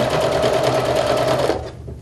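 Sewing machine stitching along a folded seam, running in one close, steady whirring burst for about a second and a half before slowing and stopping.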